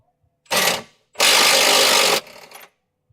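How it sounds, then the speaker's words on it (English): A bolt spins inside a Corvette chassis as a tool turns it, giving two close mechanical bursts of ratcheting whir: a short one followed by a longer, louder run that trails off. "the bolt is spinning in the chassis"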